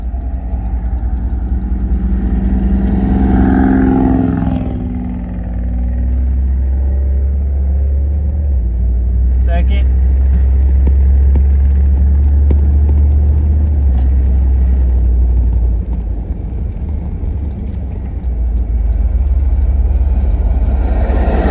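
A pickup truck with a blown engine is driven with a heavy, loud rumble from its engine, rising and dipping with throttle and holding a continuous low drone throughout.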